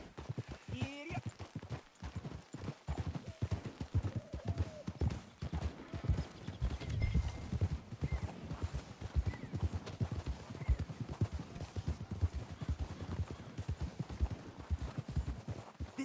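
Several horses walk with steady clip-clopping hooves in Red Dead Redemption 2, hoofbeats close and continuous with an occasional whinny and snorting, running throughout.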